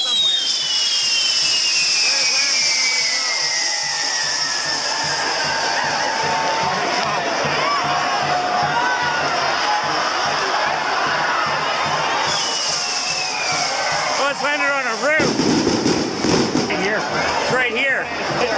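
Fireworks go off over Melaque, with whistling rockets that spiral upward and crackling bursts over a loud, cheering, shouting crowd. Pops and bangs grow denser toward the end.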